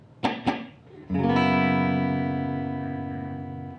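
Two muted string plucks, then a clean electric guitar chord rings out through a Fender Deluxe Reverb amp set at 5/5, mid-boost preamp off, sustained and fading slowly with a warm reverberant tail.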